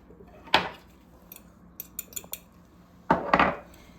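A spoon clinks and scrapes in a bowl while brown sugar, cinnamon and melted butter are mixed into a cinnamon bread filling. Two louder bursts of scraping frame a few soft taps, close by, with no talk.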